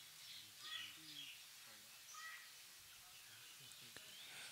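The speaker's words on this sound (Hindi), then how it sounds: "चिड़िया की आवाज़ सुनाई दे रही है" Birds chirp and call outdoors, faint and scattered across a few seconds, with a low murmur of a voice underneath.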